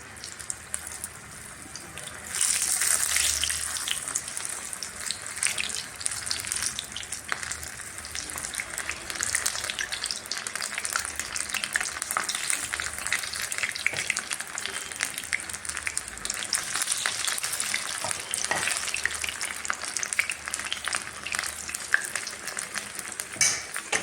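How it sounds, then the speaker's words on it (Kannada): Spoonfuls of sweet pumpkin bonda batter dropped into hot oil for deep-frying give a loud, steady sizzle that crackles and bubbles up close, running unbroken for the whole stretch with no voices. "ಎಣ್ಣೆ ಕಾದಿದೆ ಒಂದು ಸ್ಪೂನ್ ಸಾಯದಿಂದ ಬಿಡ್ತೀನಿ"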